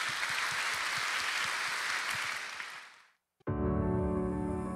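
A large church congregation claps in sustained, dense applause at a Sunday service, then fades out and gives way to a brief silence before music begins.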